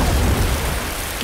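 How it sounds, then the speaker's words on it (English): Dense hiss of acid rain falling steadily in the video game Stick War 3, with a low rumble underneath, brief and continuous. "Really acid rain."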